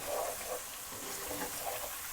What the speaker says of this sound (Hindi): इसमें मिक्स हो जाए और उसको भून लेंगे अच्छी तरह।